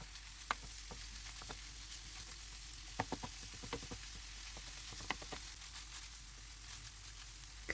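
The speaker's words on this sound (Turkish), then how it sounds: "400 gram kıymayı da ilave edip suyunu salıp çekene kadar pişirelim." Ground beef, 400 grams, frying in a pan with tomato paste for lasagna: a soft, steady sizzle with scattered sharp pops and occasional utensil taps, fairly quiet and with no voices.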